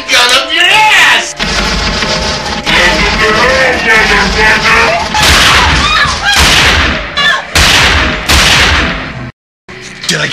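Gunshots ring out in the horror film S.I.C.K. (Serial Insane Clown Killer), several loud, sharp blasts arriving in the second half over dense music and tense, shouting voices, before a brief silence near the end.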